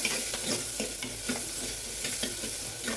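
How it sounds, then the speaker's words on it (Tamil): Chopped onions frying in a pan while being stirred for a Tamil paruppu kulambu, a loud continuous sizzle broken by regular scraping stirs, close up and with no talking. "ஆனியன் நல்லா வதங்கணும் நமக்கு"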